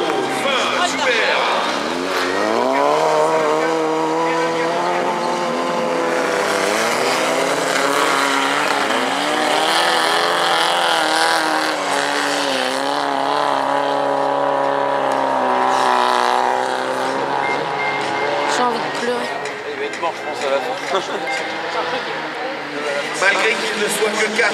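Race cars in a racing final roar through a turn, loud engines rising and falling in pitch as several cars pass close together, with a commentator's voice running over the noise throughout.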